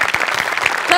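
A studio audience at a Marathi comedy show claps loudly in a brief, lively burst, with a faint voice briefly heard among the applause.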